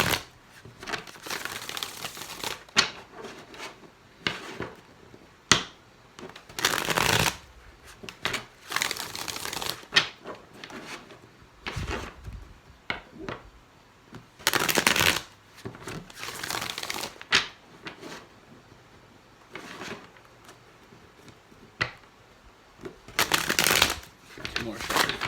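Tarot cards are shuffled in repeated crisp, papery riffles and slaps, close and fairly loud, coming in irregular bursts across the whole stretch.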